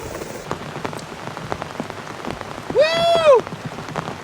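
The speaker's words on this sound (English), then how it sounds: "Camping in the rain, baby!" Heavy rain drums on a tent or tarp during a storm while canoe camping on a wild river, with dense close patter throughout and a brief loud whoop of a voice partway through.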